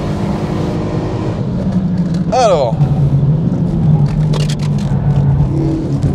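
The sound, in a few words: Renault Megane 3 RS Châssis Cup car driven on track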